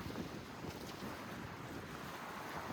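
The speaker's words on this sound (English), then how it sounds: "It's been quite windy here." Steady outdoor wind rushing across the microphone beside a lake, a continuous low roar with no voices.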